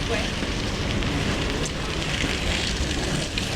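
Rain falling on a Paris street near Gare de l'Est, a dense steady hiss of drops with traffic-like rumble, constant and fairly loud throughout.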